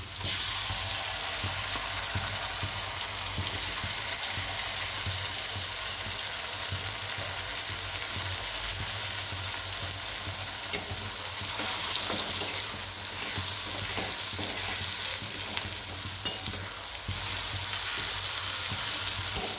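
Spice paste of ginger, tomato and two green chillies frying hard in oil for a Bengali fish-head kalia, a dense continuous sizzle close up with occasional stirring, no voices.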